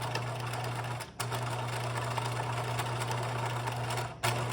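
A sewing machine stitches a gathered seam in a fast, steady whir, stopping briefly twice before running on, close and clear with no talk.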